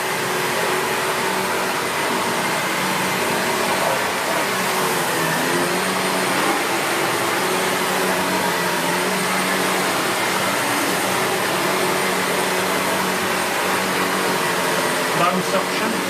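A SEBO Felix Rosso upright bagged vacuum cleaner runs steadily at full suction, a loud, continuous broadband motor roar with a constant airflow hiss filling the whole stretch at close range.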